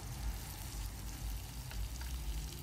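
Salted village chicken pieces fry in a pot with a steady, close sizzle, a continuous crackling hiss that holds even throughout with no voices.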